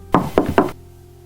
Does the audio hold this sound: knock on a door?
yes